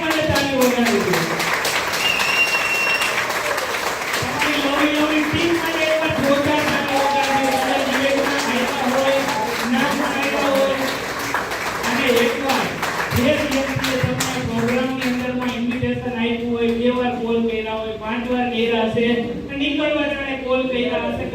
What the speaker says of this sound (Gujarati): તો દિલથી એકવાર તમારી અપલાઈન માટે તાળી વગાડી દો